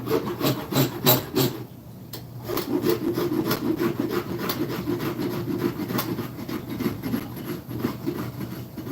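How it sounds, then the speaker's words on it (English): A farrier rasp filing across wood, rough back-and-forth strokes close by in a steady rubbing rhythm, with a short pause near the start before the filing resumes. "the third and fourth side of the Farrier rasp is pretty handy"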